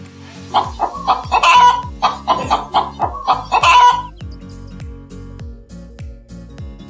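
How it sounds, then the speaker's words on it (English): A hen clucks repeatedly in a quick, rhythmic series of loud, close calls, then goes quiet for the last few seconds. "母鸡母鸡 hen hen"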